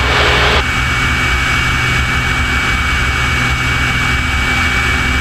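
Steady, loud engine drone of a Team Oracle aerobatic plane in flight at Oshkosh, a continuous low roar with a constant hum and no voices.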